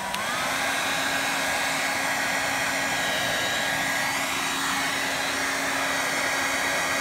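Hair dryer blowing steadily on its high heat setting, a loud continuous broadband whoosh with a constant motor whine, running unbroken and alone throughout.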